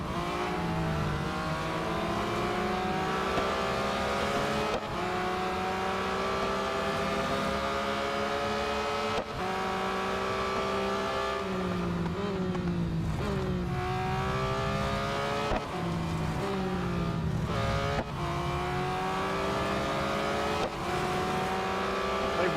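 A BMW M3 GTR races in Real Racing 3, its engine loud and close, rising through the revs and dropping sharply at each gear change, several times in a row.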